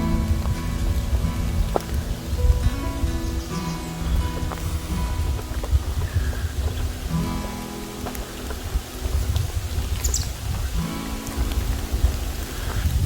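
Wind blows hard by the water at a point on a summer outing, a loud, continuous buffeting rumble with gusts throughout and no voices.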